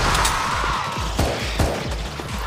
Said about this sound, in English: shoot them all, shoot them all